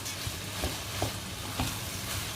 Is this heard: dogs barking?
no